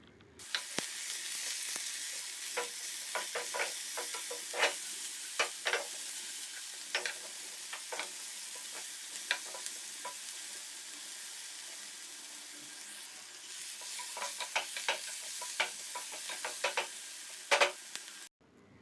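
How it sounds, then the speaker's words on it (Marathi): Chopped onion, tomato and mixed vegetables frying together on high flame, giving a continuous hissing sizzle broken by frequent sharp ticks and spatters. The pan sounds fairly quiet, with no voices. "हे सगळं आपल्याला एकत्र हाय फ्लेमवरती फ्राय करायचे"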